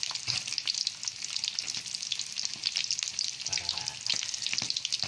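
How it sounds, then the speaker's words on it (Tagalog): Steady, hissing sizzle of fish (redbelly yellowtail fusilier and boneless milkfish) frying in hot oil, with crackling pops throughout, close up and continuous with no talking. "Prito lang tayo umaga ng isda."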